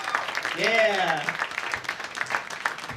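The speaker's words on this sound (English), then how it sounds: "Let's give him a nice round of applause" An audience at a live comedy show claps in a dense patter, with a voice speaking over the applause in the first half.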